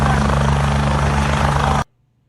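A military helicopter flies close overhead, its loud, steady rotor drone and turbine whine filling the air for nearly two seconds before cutting off abruptly.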